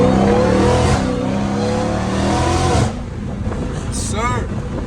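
Dodge Hellcat Redeye revving hard as it leaves a car meet, a loud deep engine roar with rising harmonics that fades as the car pulls away, while people chatter nearby.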